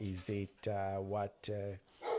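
Dogs indoors bark excitedly at a postman at the door, several loud close barks mixed in with someone talking.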